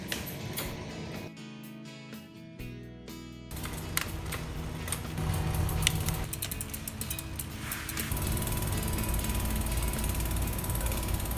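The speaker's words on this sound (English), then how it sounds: "great for spinning through the gears to tune both front and rear derailleurs. Click through the gears." Gears on a folding recumbent trike click and ratchet repeatedly as a hand spins the cranks and works through the front and rear derailleurs, with close mechanical ticking over a steady whirring drivetrain and no talking.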